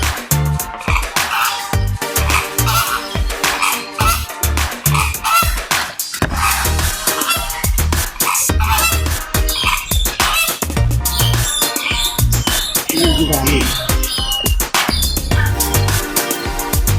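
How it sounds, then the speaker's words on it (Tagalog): A crowd of swans and flamingos in an aviary at Kowloon Park calls without pause, a dense overlapping din of honks and croaking cries, loud and continuous. "Oh, ang daming swan, flamingo."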